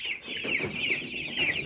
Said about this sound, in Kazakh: мынау бройлер балапандарының әкелінген екінші ағымы